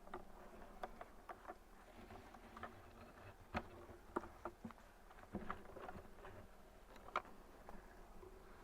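Honeybee swarm buzzing softly as the bees are carried to a new spot, a faint continuous hum with scattered ticks and bumps of handling throughout.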